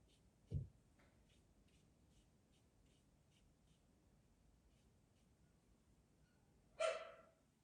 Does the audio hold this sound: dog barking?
yes